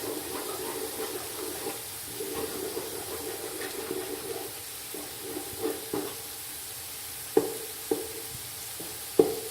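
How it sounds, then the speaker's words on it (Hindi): Four country eggs frying in ghee are stirred in a pan, giving a steady low sizzle with soft scraping strokes and a few sharper utensil knocks near the end, with no voices. "4 देसी अंडे इस घी में डालूँगी। और इसको मैं इस तरह मिक्स करूँगी।"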